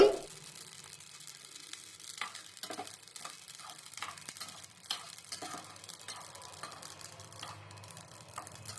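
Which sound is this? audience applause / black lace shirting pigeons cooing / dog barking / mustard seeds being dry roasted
mustard seeds being dry roasted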